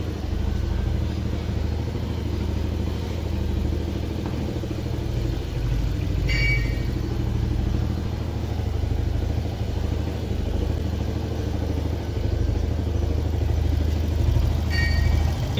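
A motorcycle engine converted to run on an LPG gas kit idles steadily up close, a continuous low rumble throughout with no speech.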